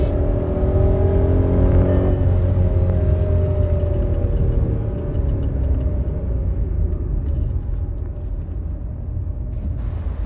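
A VW Taigun with a 1-litre three-cylinder engine drives along, its steady low engine drone and road rumble continuous and fairly loud inside the cabin, with a faint hum easing off partway through.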